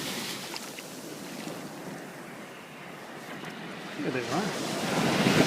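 Pacific Ocean surf breaking on a beach just north of Los Angeles, a steady broadband wash with wind noise that swells louder toward the end, with someone speaking briefly near the close.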